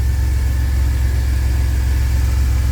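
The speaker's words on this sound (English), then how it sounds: "So the engine is running." A 2000 Chevy Astro engine idles with a steady, close low rumble and faint whine, running continuously with no talk and no change in pace. The vehicle cranks but won't start reliably and has died while driving.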